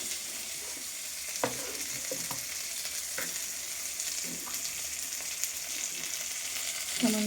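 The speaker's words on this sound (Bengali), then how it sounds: "এই কড়াতে একটুখানি টমেটো কাঁচা লঙ্কা দিয়ে মশলাটা করে নেব।" Tomato and green chilies cook down into a masala in a wok, with a continuous hissing sizzle and a few sharp stirring clatters over it.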